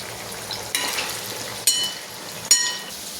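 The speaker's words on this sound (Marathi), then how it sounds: "याला छान हलकंसं लाल होईपर्यंत तळायचं" Vegetables and sweet potato for undhiyo fry in hot oil, giving a steady close sizzle broken by three sharp knocks of a utensil against the pan.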